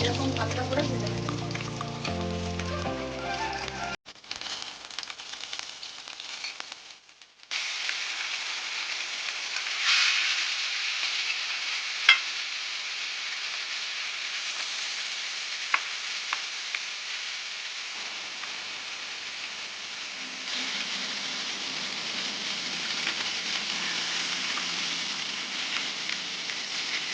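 Small carp frying in hot oil, cooked lightly rather than charred: a steady soft sizzle and hiss after a brief burst of music, continuing evenly and fairly quietly throughout.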